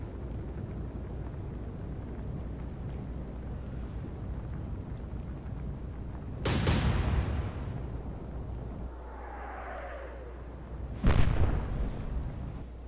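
Naval artillery salvos from a Battle of the Atlantic video game, with the Admiral Scheer nearby: two heavy, booming explosions several seconds apart rise over a steady low engine and sea rumble, the first followed by a long rolling decay.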